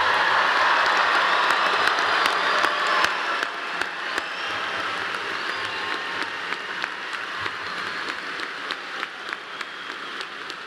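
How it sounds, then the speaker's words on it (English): Loud, sustained applause from a large crowd honoring the newest graduates at Clemson University's spring 2024 commencement, a dense wash of clapping that eases slightly partway through but keeps going throughout. "How about a really loud round of applause for our newest graduates?"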